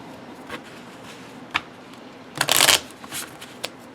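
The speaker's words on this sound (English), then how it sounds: "straight up, put 9 cards out" Tarot cards of a fairly light card stock dealt out one at a time onto a surface, giving soft slaps and a brief flurry of riffling near the middle, close and clear with no talking.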